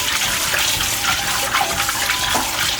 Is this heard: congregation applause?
no